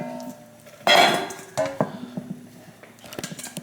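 Broccoli and carrot tipped into a pan of tofu laksa curry broth over medium heat, giving a loud clattering tumble followed by a few lighter knocks and clinks of vegetables and utensil against the pan.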